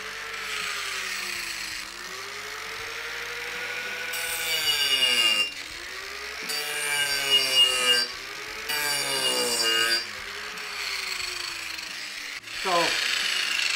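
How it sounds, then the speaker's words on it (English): An angle grinder spins up and winds down in repeated bursts, its whine rising and falling in pitch as the switch is pressed and released, close and loud. "with this particular angle grinder, the switch here, you kind of have to press it down and then in."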